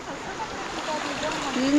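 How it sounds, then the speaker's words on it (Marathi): Flowing stream water in a village, a steady close rushing and gurgling wash, continuous and moderately loud with no talk over it. "तिकडे बघ असं वाहता पाणी आहे"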